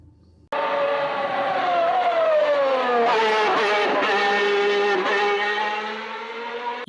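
A high-pitched Formula 1 engine screams as its pitch slides down, then several quick throttle blips punch through while it decelerates into a corner, loud and close.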